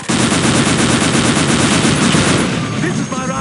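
Automatic weapon fire in the video game Unreal Tournament 2004, a loud, dense continuous stream of rapid shots with no gaps, close and dominant throughout.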